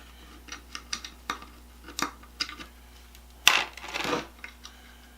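Small metal washers clink as they drop one by one into a metal pan on a Craftsman 2A die stock, sharp close ticks followed by a louder rattling scatter.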